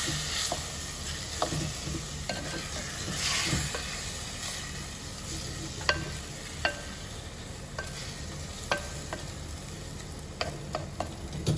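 A spoon stirring chicken curry with red chilli in a handi pot, steady scraping and clinking strokes over a low frying sizzle, close and moderately loud, with no talk.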